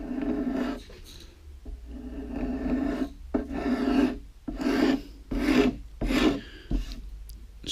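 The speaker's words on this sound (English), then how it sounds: "with a scraper blade, I'm gonna bend it. We are going to scrape the corners away." A scraper blade rasps across the corners of a wooden guitar neck in about eight steady back-and-forth strokes, close and fairly loud, with no speech.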